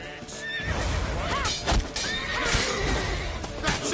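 Horse neighing in The Witcher 3, a loud whinny that rises and falls over galloping hoofbeats and game music, with a second shorter whinny near the end.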